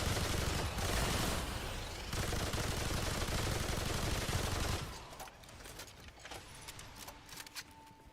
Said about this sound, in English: It feels like a shotgun version of the cube gun